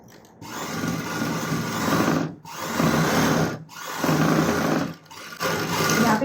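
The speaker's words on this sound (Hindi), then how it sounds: "तो हमें कमर पे यहाँ तक सिलाई लगानी है" A sewing machine stitches a blouse seam at the waist in four steady bursts of running, each separated by a short pause, close and clear with no talking.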